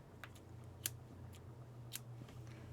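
Scissors snip through white yarn during a crochet clown project, giving two quick, crisp cuts, one near the start and one later, over a quiet room hum.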